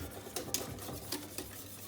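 A spoon stirs a custard powder mixture in a pan, making faint, soft scraping strokes and a few light taps against the pan in an uneven rhythm, with no talking.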